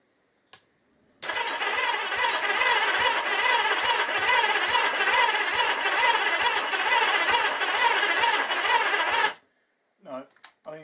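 A 1977 Kawasaki KZ650/Z650 B1 motorcycle with carburettor trouble cranks on a weak battery: about eight seconds of steady, rhythmic starter churning that never catches, followed by brief voices afterward.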